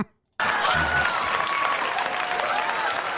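A studio audience breaks into steady, dense applause after a brief silence, loud and sustained with faint voices and a whistle-like tone riding over it.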